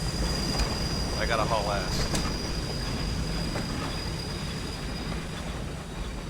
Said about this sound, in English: train's coming to a stop